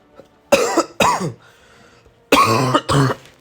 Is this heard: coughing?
yes